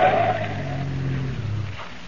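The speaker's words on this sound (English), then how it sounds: "I ran at the turn and then cut off to the side of the road." Radio drama effect of a car accelerating hard into a curve and skidding off to the side of the road, a loud engine roar with tire noise that fades down over about two seconds.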